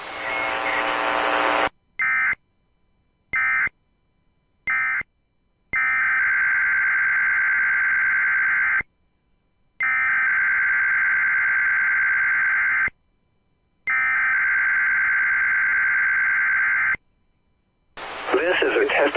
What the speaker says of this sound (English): This is a test of NOAA Weather Radio's warning alarm device